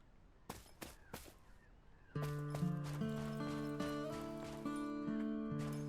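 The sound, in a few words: horse in video game Cowboy Life Simulator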